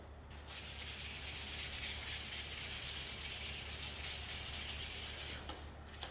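Sandpaper rubs back and forth over wood in quick, even strokes, a steady rasping scratch close by that stops abruptly near the end.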